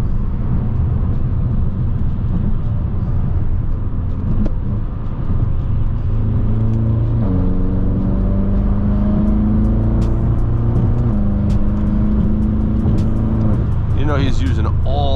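Rally cars, including a Honda, racing at Maple Grove Raceway, with a constant loud engine roar and rising, falling revs as cars accelerate and pass, while a voice talks over it.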